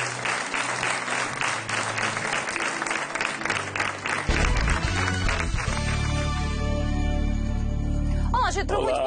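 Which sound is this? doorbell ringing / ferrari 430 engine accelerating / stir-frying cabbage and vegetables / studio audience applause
studio audience applause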